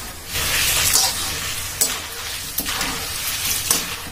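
Corn poha sizzles and crackles as it fries in hot oil for a Vidarbha-style chivda, a steady close hiss with a few sharper pops and stirring scrapes.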